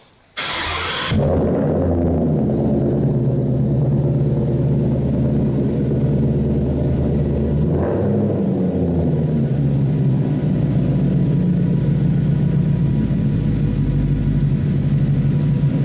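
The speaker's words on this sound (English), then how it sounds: "fire this thing up for us because we want to hear some exhaust" A modified Ford Mustang engine cranks and fires up, then settles into a deep, loud rumbling exhaust idle with a brief rev partway through.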